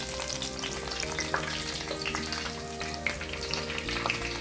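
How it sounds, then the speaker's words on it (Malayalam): Fish pieces deep-frying in hot oil give a steady, dense sizzle with scattered crackles and pops throughout, close and fairly loud, with no voices. "മീൻ നന്നായിട്ട് മൂത്ത് വന്നിട്ടുണ്ട്"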